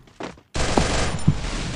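Gunfire from the Garena Free Fire video game: a short muffled burst, a brief gap, then a loud sustained spray of rapid shots with a couple of sharper impacts.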